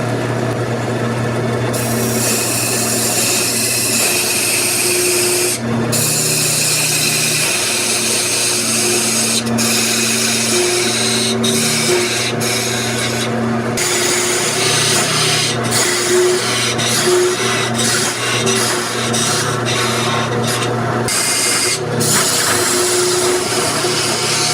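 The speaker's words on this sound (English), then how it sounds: "Now with my parting chisel I'm just going to cut out the areas where the handle is in the back and the front." A parting chisel cuts into spinning maple on a wood lathe, giving a continuous loud scraping whine over the motor hum, with brief breaks as the tool lifts from the wood.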